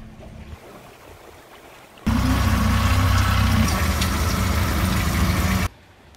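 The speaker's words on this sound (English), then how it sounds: "Some big waves. A lot of wind." Strong wind and big waves batter the area around a boat. After a quiet start, a loud, dense rush of wind and water roars for several seconds, then cuts off abruptly.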